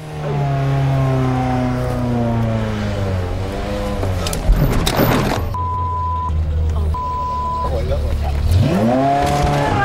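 A VW Touareg off-road SUV labours to climb a slope. Its engine strains with rising and falling revs and the wheels scrabble for grip, close by, while people talk over it.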